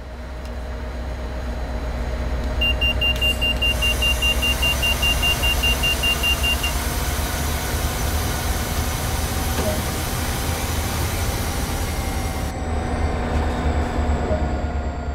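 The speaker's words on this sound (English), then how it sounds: "Move the automatic brake into emergency." Emergency brake application on an MBTA F40PH-3C locomotive with CTC-3 cab car in Train Sim World 2, Boston Sprinter route: a loud steady rumble and hiss of the train slowing over about fifteen seconds, with a tonal beep early on.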